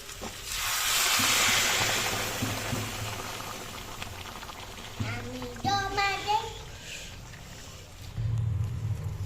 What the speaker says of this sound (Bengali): এবার আমি এর মধ্যে গরম জল অ্যাড করছি